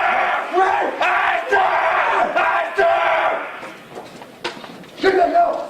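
Military recruits at receiving scream together in loud, repeated bursts, a crowd yelling in unison with short gaps between shouts, close and harsh, with footsteps and shuffling underneath.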